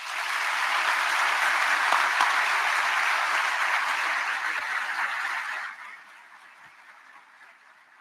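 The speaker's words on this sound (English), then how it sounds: "please give a round of applause to Cadet Captain Jacob Grossman" Audience applause at a West Point Summer Leaders Experience graduation and awards ceremony honoring a cadet captain, a dense sustained clapping crowd for about six seconds that then drops to a faint patter.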